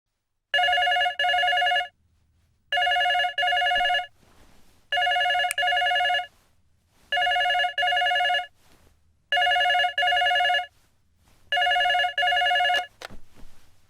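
Classic telephone bell ringing in a suspense thriller, six evenly spaced double-burst rings with short silent gaps between them, loud and alone with no voices.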